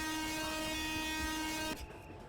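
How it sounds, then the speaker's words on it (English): A loud, steady train horn blares with a rich harmonic tone for nearly two seconds, then cuts off, leaving a low rumble. "Make sure you honk repeatedly to alert the workers."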